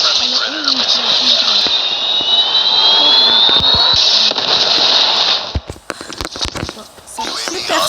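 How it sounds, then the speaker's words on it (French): Helicopter in a Call of Duty match on the Crossfire map, a loud whining jet-like engine roar that holds steady, then cuts to sharp bursts of gunfire and impacts, with a player talking over it. "On va faire mon hélicoptère."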